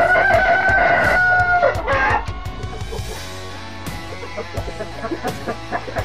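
A Lemon and Red Kelso gamefowl rooster crows loudly and close by, followed by a hen's low clucking and scattered farmyard sounds.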